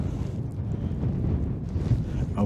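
Strong blizzard wind gusting across a frozen lake during winter ice fishing, a steady low roar buffeting the microphone for the whole stretch with no voices.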